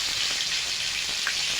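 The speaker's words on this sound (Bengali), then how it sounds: "মাছগুলো ভেজে নেব ভালো করে।" Small fish fry in hot oil in a pan, sending up a steady, close hiss and crackle with tiny popping spatters throughout.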